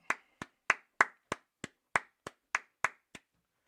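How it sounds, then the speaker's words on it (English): Eleven sharp, evenly spaced hand claps from a small group, close and distinct with brief silence between each, the last one softer. "All right, clap it up."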